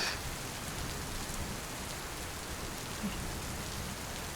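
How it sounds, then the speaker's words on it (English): Heavy rain drums steadily on a tent pitched for backpacking in grizzly country, a dense continuous hiss with no voices throughout. "The sun's coming out, but the rain is getting heavy."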